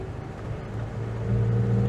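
Ford Transit Mk5 Flareside van engine accelerating on a Midlands road, a low steady rumble that rises and grows louder toward the end, with no talking.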